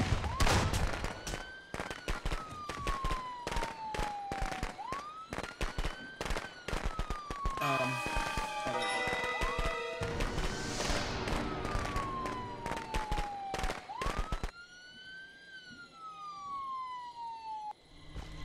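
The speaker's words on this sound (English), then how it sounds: "Fireworks!" Fireworks in the Friday the 13th video game: long volleys of loud crackling bangs with a wailing siren rising and falling over them, a whistling burst in the middle, the pops thinning out near the end.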